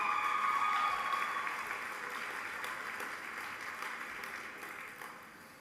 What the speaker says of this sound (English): Stand up real quick so we can all give you a nice warm round of applause